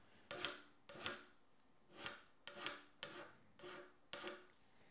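A hand scraper rasps across cast iron in seven or eight short, evenly spaced strokes, each a gritty scrape with a metallic edge, close and fairly quiet, with no talking.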